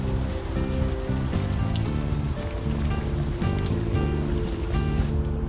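Steady rain falling in a rainy street scene of the game Unavowed, a continuous dense patter filling the background at even loudness with no talk.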